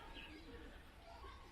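Doves cooing in a garden hut, soft and fairly distant, with low murmuring coos over quiet outdoor ambience.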